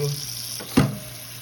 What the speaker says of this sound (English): is run cold water on it and let it sit